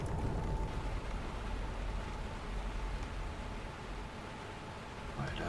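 Rain falls steadily in the train simulator game Derail Valley, a dense continuous hiss with low rumble, loud and even throughout with no clear talking.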